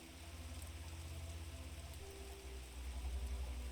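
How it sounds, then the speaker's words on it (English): Steady rain drums on a raincoat and its raised hood, a dense continuous patter close around the ears, growing slightly heavier toward the end. "The sound of that rain reverberating around her ears as it strikes the coat and the hood of the coat."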